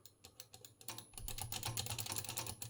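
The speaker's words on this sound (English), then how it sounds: "I hear some clickety relays and stuff." A 1980 Russian VFD quartz master clock from a ship, model SM-1D, gives off rapid, faint clicking and chattering from its relays, first in sparse ticks and then in a denser, continuous rattle.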